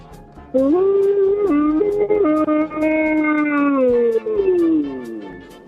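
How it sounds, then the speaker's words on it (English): A man's loud, drawn-out voiced yawn close to the microphone, rising into a strained, wavering tone and then sliding down and fading over about five seconds. "We need to hear your dad yawn."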